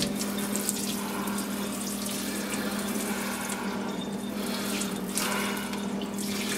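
A seasoning rub container is rinsed under a running kitchen tap, giving a continuous close splash of water with small shifts in spray as it is turned in the stream.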